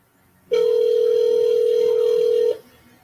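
A telephone rings while a Chinese restaurant is being called: a single loud, steady ringback tone sounds for about two seconds, then the line goes quiet.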